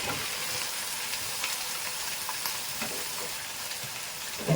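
Tomatoes frying in a pan with green chillies and ginger-garlic paste for mutton biryani, a steady broadband sizzle holding level throughout with a few faint clinks and a brief louder knock at the very end; no talking.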